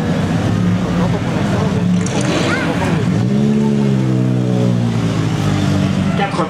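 A 1937 Bugatti Type 57 Ventoux, an ex-works car with four-seat coachwork, idles and then revs up with a steady rising engine note, close and loud, while a voice talks over it throughout.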